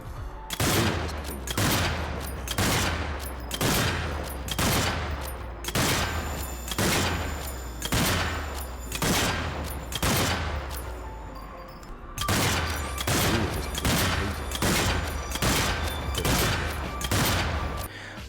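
A rifle fitted with a rapid-fire mod in the zombie shooter Zombie Army 4 fires loud, evenly spaced shots in a fast steady rhythm. There is a short gap before the volley resumes.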